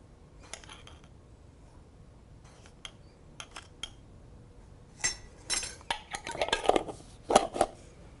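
A spoon works som tam dressing of fish sauce and sugar around a bowl, giving faint scattered clinks that grow busier and louder toward the end, close by with no talking.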